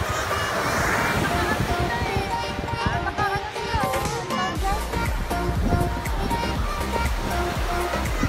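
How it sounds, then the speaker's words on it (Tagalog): Heavy surf crashes and roars continuously along a beach at Pagudpud, Ilocos, a loud, steady wash of strong breaking waves with wind. "Ang dagat sobrang ganda, nga lang sobrang lakas ng alon"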